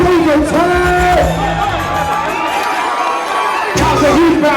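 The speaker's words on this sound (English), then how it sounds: "Round of applause for Prototype." Crowd at a crew dance battle final cheering, whooping and shouting in a loud, excited burst, with voices and music-like tones layered through, dipping briefly before surging again.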